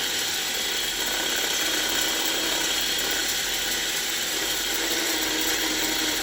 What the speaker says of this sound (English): I'm not using the wire brush, I'm using the fibre wheel